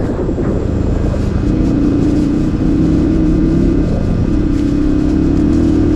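A motocross motorcycle with an upgraded, more powerful engine drones loudly and continuously at a mountaincross race, its pitch rising and falling slightly as the throttle is worked.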